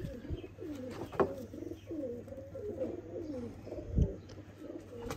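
Rare old pigeons in a breeding setup coo in a steady run of rolling, throaty calls, close and clear, with a couple of sharp thumps partway through.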